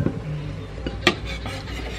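Soto banjar soup is served into a bowl in a kitchen, with metal utensils clinking softly against dishes and one sharp clink standing out midway.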